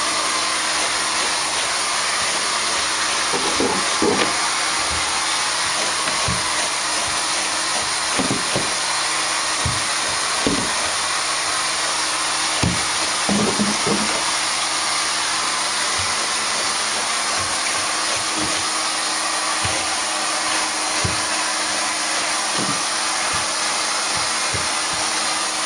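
A Rotovac 360i carpet cleaning machine runs steadily for the whole stretch, a loud, continuous high whine and roar cleaning stairs and carpet in a house, with occasional brief thumps and knocks underneath.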